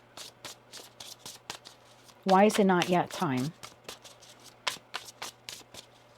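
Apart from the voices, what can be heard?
tarot cards being shuffled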